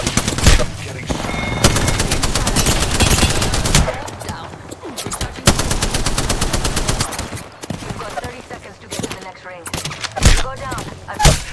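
Rapid automatic gunfire from the video game Apex Legends rattles in long loud bursts and single shots, with brief pauses between volleys.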